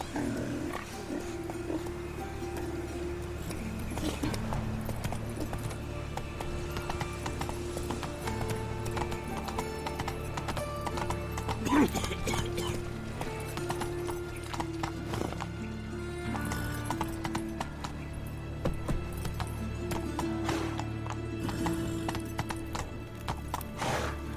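Roach, a horse in the video game The Witcher 3, gallops with steady clip-clop hoofbeats and lets out neighs and whinnies, all sounding continuously over a game soundtrack.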